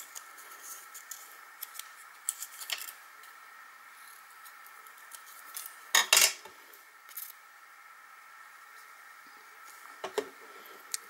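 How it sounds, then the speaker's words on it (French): Scissors cut pearlescent paper labels in a quiet room: a handful of soft, isolated snips, with one sharper, louder cut midway and faint small clicks between. "je vais découper les 2 étiquettes"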